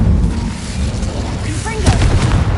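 The Incendio fire spell cast in the game Hogwarts Legacy, a loud low roaring burst of flame with a deep rumble running throughout and a sharper flare near the end, with a voice briefly heard.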